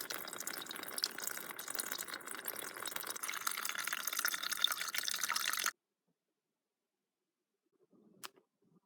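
Water pours and splashes steadily at a trail water source in the North Carolina woods for several seconds, then stops abruptly, leaving near silence and one faint later clink.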